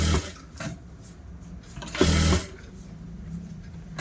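A sewing machine stitches the lining fabric of a blouse, running in a steady mechanical whir with a louder burst partway through, close by and alone.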